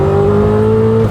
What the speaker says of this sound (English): Listen to the downshifts.